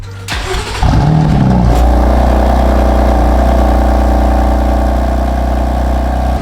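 A BMW F80 M3 engine with an aftermarket exhaust starts with a brief rev, then settles into a steady, loud, deep idle with a throaty exhaust rumble, close by.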